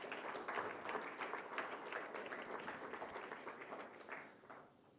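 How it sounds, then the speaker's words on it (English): Audience applause at a robotics initiative launch event at IIT Madras, a steady wash of many hands clapping that holds for several seconds before thinning and fading out. "A big round of applause to her."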